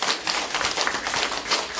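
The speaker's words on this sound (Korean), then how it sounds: "우리 박수 한번 세게 치고 강의 시작하겠습니다" Audience clapping hard just before a lecture on happiness, a dense loud burst of many hands applauding together, continuous and close, with no talking over it.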